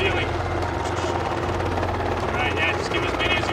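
A helicopter flies overhead with a loud, continuous rotor thump and engine roar filling the whole stretch, steady and close, with no clear talk on top.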